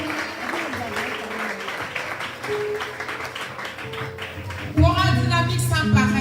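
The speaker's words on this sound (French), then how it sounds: "Acclamez très fort pour cette grande chorale." An audience at a church service applauds a choir with loud, sustained clapping, which gives way after about five seconds to voices and music.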